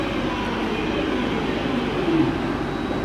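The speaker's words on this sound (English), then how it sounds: "I make that 323226 from the Northern Railway service terminating from Manchester Piccadilly." Northern Railway Class 323 electric multiple unit at Stoke-on-Trent station, a steady rumbling hum of the train with a faint whine, continuous and moderately loud.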